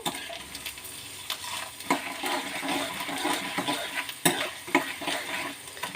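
A pulihora tempering with dried red chillies sizzles in a pan as it is stirred, a steady crackling fry with a few sharp scraping clinks.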